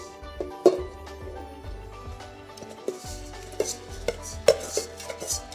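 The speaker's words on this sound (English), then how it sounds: "My oil is hot, so let's add the meat." Pork pieces go into hot oil in a Fissler pressure cooker, giving a few clinks and knocks of meat and utensil against the metal pot over a low, steady background, with no talking.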